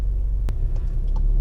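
A Volkswagen Golf R pulls up a highway on-ramp, its engine a steady low rumble that builds gradually in loudness from close inside the car, with a click near the start and no talking.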